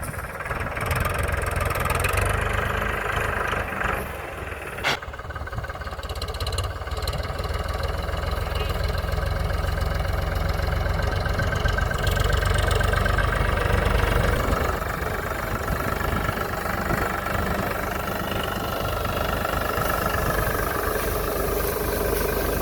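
A GPS auto-steering tractor sowing winter crops runs steadily throughout, a continuous low rumbling drone with a faint metallic clatter, close by and without talk.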